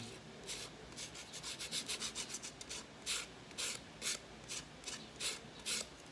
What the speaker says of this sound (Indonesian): harus kita amplas supaya lemnya bisa lebih kuat